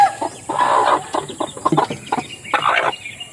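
A hen clucking among her chicks in a backyard, close and fairly loud, with soft repeated clucks and faint peeping in short bursts, no speech.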